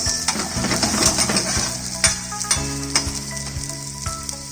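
Carrots, garlic, bay leaf and peppercorns sauté in a pot for soup in a loud, bright sizzle, with metal utensil clanks and stirring knocks scattered through and no talking.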